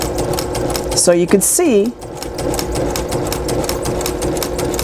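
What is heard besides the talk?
sewing machine piecing quilt fabric at quarter inch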